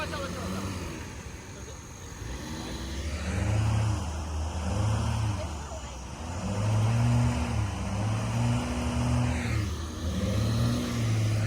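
A Jeep engine revs repeatedly in surging pulses, straining to pull a two-wheel drive truck on street tires buried in mud, loud and close with voices faintly under it.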